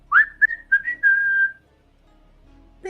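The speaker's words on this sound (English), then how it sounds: "Let's play the strikeout whistle" A strikeout whistle sound effect played during a live Yankees versus Red Sox baseball watch-along: a series of bright, loud whistled notes, short rising chirps that end in one longer sustained tone, then quiet.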